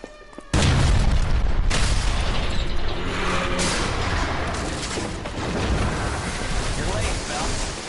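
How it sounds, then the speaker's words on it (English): A massive explosion in the game LA Noire bursts suddenly after a quiet moment, then a loud rumbling roar with creaking, clattering debris that slowly settles. "Massive fucking explosion."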